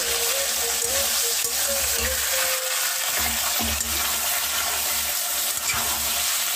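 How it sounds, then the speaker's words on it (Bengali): Meat sizzles and fries steadily in a pan, with occasional stirring scrapes and a constant crackling hiss throughout, close and fairly loud, with no talking. "ভালো করে ফ্রাই করে নিচ্ছি"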